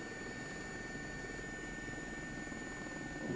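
A helicopter climbs away in a steep takeoff near Windsor, heard from inside as a steady, loud rotor and turbine drone with no talk.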